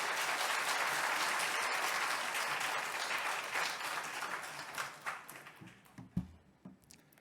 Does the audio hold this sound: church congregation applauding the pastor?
yes